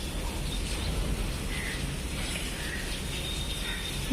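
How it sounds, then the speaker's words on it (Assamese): Sudden stormy rain pours down as a dense, steady wash of hiss and splatter, loud and unbroken throughout with no letup. "হঠাৎ যিটো ধুমুহা বৰষুণ দিলে"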